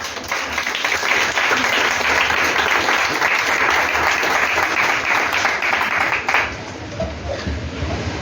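A church congregation applauds in praise of the Lord, loud sustained clapping from many hands that fills the room for several seconds before thinning out near the end, with a few voices mixed in.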